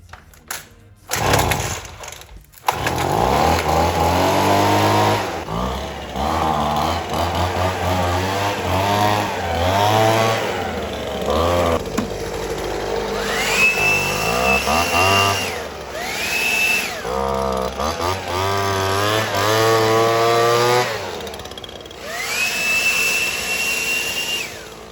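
A petrol leaf blower engine runs loud and close after starting, revving up and down in repeated surges with a whining high tone at full throttle, brief sputters between.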